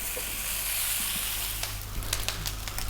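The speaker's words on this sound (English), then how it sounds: "You need that rice to be frying away" Mushroom rice fries steadily in a hot pan, a continuous close sizzle with crackling bursts toward the end.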